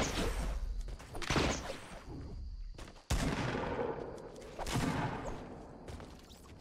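Gunshots in Fortnite Battle Royale squads, several sharp loud bursts of rapid fire with short gaps between them, including one sudden close crack midway, followed by more volleys and rattling echoes.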